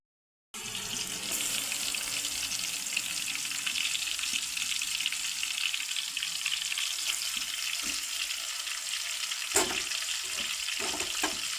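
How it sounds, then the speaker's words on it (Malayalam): Chicken pieces deep-frying in oil in a pan: a steady, loud, hissing sizzle that runs without a break, with a few faint clinks of a utensil near the end. "ചിക്കൻ വറുത്ത് കോരിയാണ് വെക്കുന്നത്."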